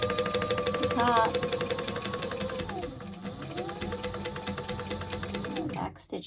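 A sewing machine stitching a crossbody bag runs in a steady, rapid mechanical chatter close to the microphone, slowing briefly before stopping near the end.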